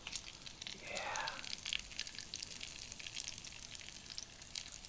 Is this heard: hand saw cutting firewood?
no